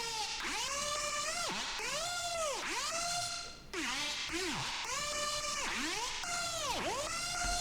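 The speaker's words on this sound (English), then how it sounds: "I added another lead sound from Serum that sounds like this." A synth lead from the Serum plugin in an electronic music track: bright, buzzy sustained notes with repeated downward and upward pitch swoops in a rhythmic pattern, steady and alone with no voices.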